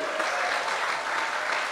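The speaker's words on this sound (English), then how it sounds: "If you are, give the Lord a big, big hand." A church congregation claps together in a dense, continuous burst of applause at a worship gathering, even and sustained for the whole moment.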